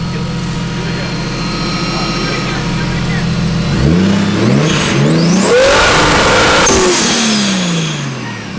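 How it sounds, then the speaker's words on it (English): A Nissan S13 with a swapped Toyota JZ engine and an external wastegate revs loudly close by, the engine note holding steady and then climbing and dropping in repeated rev sweeps with a harsh, raspy blow-off edge. "This is the craziest wastegate ever."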